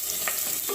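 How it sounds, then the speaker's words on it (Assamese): Onions fry in hot oil for an Assamese sesame fish curry, giving a close, steady sizzle and crackle that continues without a break. "তেলখিনি গৰম হওঁতে ইয়াত পিয়াজ দি দিলে পিয়াজখিনি এতিয়া সোণালী ৰং অহালৈকে ভাজি ল'ব"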